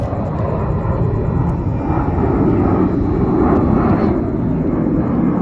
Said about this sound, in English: Oh, there's a plane going off, or taking off.